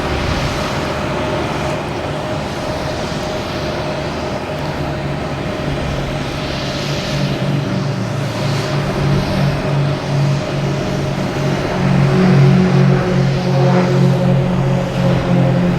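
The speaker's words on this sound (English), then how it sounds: "We have Cape Air heading to Lebanon." A Cape Air aircraft at Boston Logan Airport produces a steady, loud engine roar that swells slightly toward the end, with broad airport rumble and no talk.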